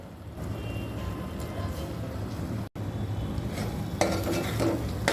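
Prawns being stirred into a thick masala in a pan for a Kolambi Rassa, with steady scraping and clinking from a spoon against metal, soft sizzling underneath, and a brief break partway through.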